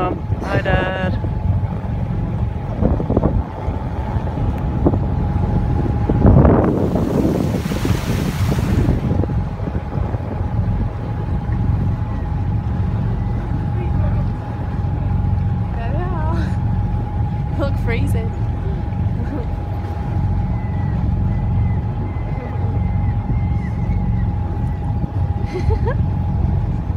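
A steady low boat engine drone rumbles throughout on deck, with wind buffeting the microphone and occasional faint voices in the background.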